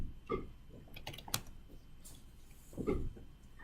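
Quiet computer keyboard typing: a few scattered key clicks and taps, soft and fairly close, with pauses between them and no talk.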